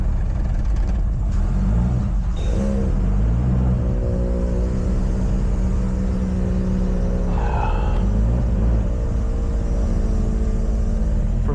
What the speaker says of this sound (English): For not having an idle valve, this thing actually starts up really nice.